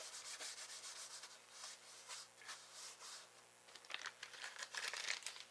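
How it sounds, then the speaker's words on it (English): Handheld embossing buddy rubbed across a sheet of cardstock, giving a soft, continuous scratchy rubbing with quiet repeated strokes close up, a few brisker swipes near the end, and no voices. "I'm just going to rub that along this entire cardstock."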